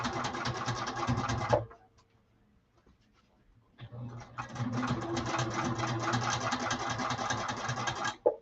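Sewing machine stitching a saddlebag seam at a close eighth-inch margin: two steady, rapid bursts of stitching close up, separated by a quiet pause of about two seconds.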